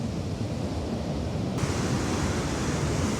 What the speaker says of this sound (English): So there's water rushing in there.